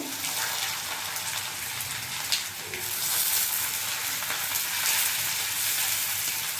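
Chopped onions hitting hot oil and frying in a pan, a bright, hissing sizzle that swells after a few seconds and holds steady, close and moderately loud.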